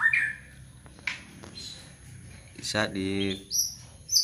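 Songbirds chirp in short, scattered calls outdoors among trees, with a louder buzzy trill near the end and quick high notes; a voice says a word partway through.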